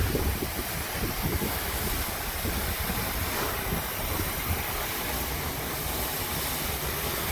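A low-pressure water stream rinses soap and grime off the siding of a lakeside house during softwashing, giving a steady, unbroken hiss and wash that holds at an even level throughout, with no talking.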